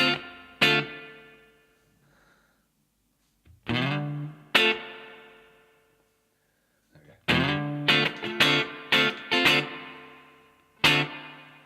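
Electric guitar played through a pedalboard with delay and spring-style reverb: single strummed chords ring out and decay into long echoing tails, then a faster run of rhythmic strums, with near silence between phrases.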